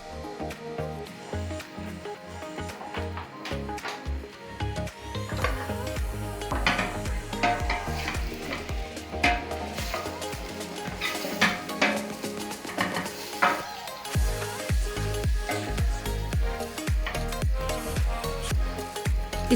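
Onions fry in half a cup of cooking oil for a chana salan, hissing and sizzling steadily while a spoon scrapes and clinks against the pot throughout, with a few louder stirring knocks.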